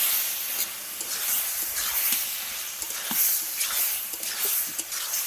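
Boiled jackfruit and boiled potato frying in a pan: a steady, dense sizzle and hiss with faint stirring scrapes throughout.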